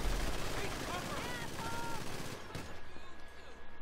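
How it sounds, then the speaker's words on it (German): Gunfire in GTA V Online: a dense, noisy stretch of rapid shots with a sharp crack partway through, fairly quiet overall and with voices talking underneath. "Da schießen wir über den Haufen"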